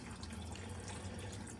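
Water gushing and splashing steadily as coolant drains out of a 1969 Dodge Charger's engine and radiator onto cardboard and the garage floor, a continuous close pouring wash.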